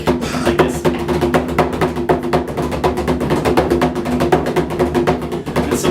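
Bodhrán played with a stick using both ends for double beats, giving a fast, continuous rolling stream of dense frame-drum hits with a rich low resonance, loud and close.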